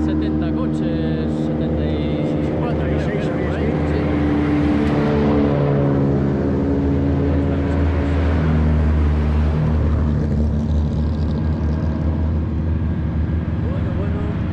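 Racing cars at the 2022 Subida a Chantada hill climb, a round of the Spanish championship. Loud engine roar swells and fades as the cars pass, blending into a continuous outdoor drone.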